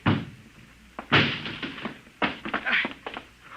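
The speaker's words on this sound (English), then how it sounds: "Break down the door." A door being broken down in a 1950 radio drama: heavy thuds and crashing impacts in two bursts, a loud blow near the start followed by a rapid cluster of banging and splintering hits.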